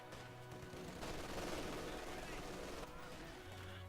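Machine-gun fire in Company of Heroes 2 rattles in rapid, sustained bursts from two MG positions, mixed with battlefield noise and set under a commentator's voice.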